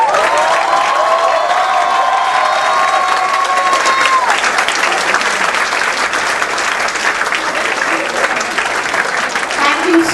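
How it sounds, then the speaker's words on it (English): Convocation audience and standing awardees break into loud, sustained applause that fills the hall for about ten seconds, with a faint crowd murmur mixed in. "give yourself a big round of applause"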